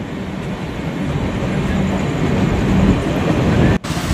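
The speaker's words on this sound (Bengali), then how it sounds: "ট্রেন প্রবেশ করছে তার প্ল্যাটফর্মে" Brahmaputra Mail passenger train slowly entering the platform at Bhagalpur Junction, a steady loud rolling rumble of wheels and carriages heard from on board, ending with a brief abrupt drop.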